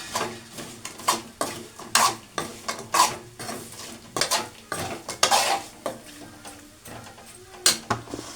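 Small sardines cut in halves frying in a pan while being stirred, with repeated scraping and clinking strokes of a utensil against the pan over a steady low sizzle, close and fairly loud, no talking.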